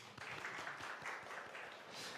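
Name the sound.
congregation applause in church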